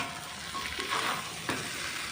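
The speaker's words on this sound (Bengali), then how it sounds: "তো এইদিকে এখন এই যে কষিয়ে নিচ্ছি ঘুগনিটাকে ভালো করে।" Ghugni, a pea and potato curry, sizzles in a pan with a continuous hiss as a spoon stirs it through a couple of soft scraping strokes, close by and with no voices.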